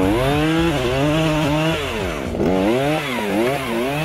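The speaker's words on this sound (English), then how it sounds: "the new backpack chainsaw can make spacing physically easier and more efficient" A Husqvarna backpack chainsaw roars loudly and close while clearing young forest, revving up and down in waves with no pauses.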